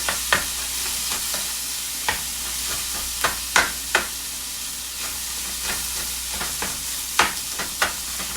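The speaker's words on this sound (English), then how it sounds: "Really make sure that the rice gets cooked all the way with the sauce of the kimchi." Kimchi fried rice sizzles steadily in a hot pan while a utensil stirs and scrapes it, giving irregular sharp clacks over a continuous hiss, close and clear with no talk.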